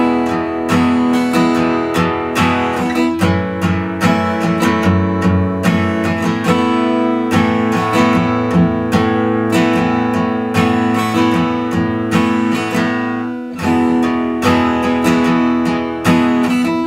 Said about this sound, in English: the chorus riff should sound like this.